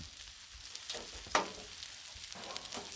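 A turkey burger sizzles on a Blackstone griddle with a steady close hiss, and a brief louder scrape as it is flipped midway.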